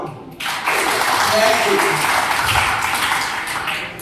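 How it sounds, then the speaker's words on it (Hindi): A school group at a wellness training session bursts into clapping, a sudden, loud and sustained crowd applause that starts abruptly and continues steadily to the end. "अब सबके लिए ताली बजाओ"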